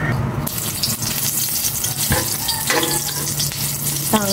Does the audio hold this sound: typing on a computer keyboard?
no